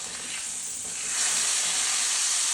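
A salted New York strip steak sizzles in a hot pan: a close, continuous bright hiss of frying fat that swells louder after the first second and holds steady, with no talk.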